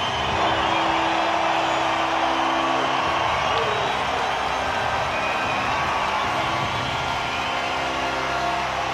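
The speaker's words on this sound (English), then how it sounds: "they'll be greeted by an enthusiastic crowd here in Wellington" Enthusiastic rugby crowd in a Wellington stadium cheering as New Zealand and Canada run out of the tunnel, a loud continuous roar with whoops, sustained and dense throughout.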